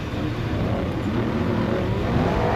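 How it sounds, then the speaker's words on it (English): A loud off-road race truck engine drones and revs steadily up close at the Mint 400 desert race, a rough, constant roar with a slight rise in pitch toward the end. "But we saw you can always hear his truck, though. It is rowdy."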